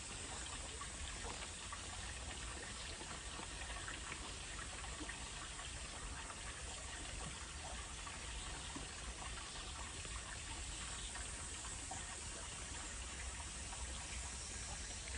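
A lawn sprinkler waters grass during spring lawn preparation, giving a steady, even hiss of spraying water that runs unbroken and fairly faint throughout, with no talk over it.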